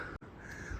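A single harsh caw from a crow, short and fairly clear, with a faint outdoor hush around it, on the mountain trek to Kugti Pass.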